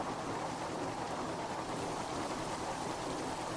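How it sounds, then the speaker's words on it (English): Steady rain in the GTA V Online video game, a continuous even hiss of falling drops with a faint low hum underneath, no talking. "Oh man, it's raining."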